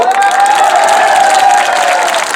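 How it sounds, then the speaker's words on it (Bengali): A crowd at a large BNP political rally in Rajbari, Bangladesh, claps for a local woman councillor. The applause is dense, steady and continuous, with a faint sustained tone running beneath it, and no one speaks. "ডেজির জন্য আমরা করতালি দেব।"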